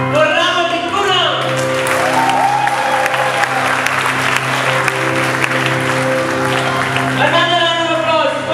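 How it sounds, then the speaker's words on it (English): Applause from the audience at a school musical event greets the class valedictorian, sustained clapping with a few shouts rising over background music, while someone speaks briefly near the start and again as it ends. "Can we have a round of applause for Ramati Kunam?"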